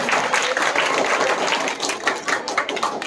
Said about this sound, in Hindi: इनके लिए सबसे पहले बार ताली बजाया जाए